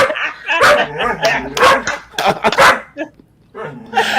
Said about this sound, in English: I realized that my dog won't shut the fuck up